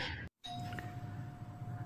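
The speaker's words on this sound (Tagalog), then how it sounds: "so the doorbell's going" A doorbell chime rings out, a clear sustained tone that lingers and slowly fades after a brief gap of silence.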